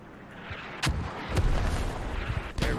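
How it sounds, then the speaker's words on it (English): Off-zone artillery fire in a video game: a handful of distant, sharp booms arrive separately over a steady low rumbling background, one ranging shot followed by others. "Pretty sure that's off-zone artillery."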